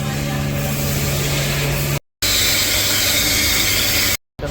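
A pressure washer sprays a vehicle at a washing center, a loud, close, steady hiss that cuts out briefly twice before resuming.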